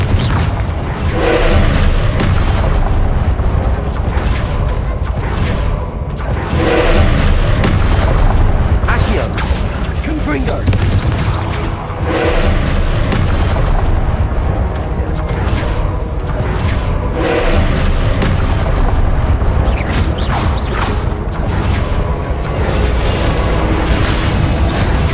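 Repeated fiery spell explosions in Hogwarts Legacy, loud booming bursts with whooshes arriving every few seconds over a continuous rumbling battle bed, with a voice calling out the spell between blasts.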